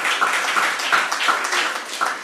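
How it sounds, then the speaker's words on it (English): An audience at the close of a science panel session claps steadily as a dense, continuous patter of hand claps in a room, moderately loud with no talking. "Please give them a round of applause."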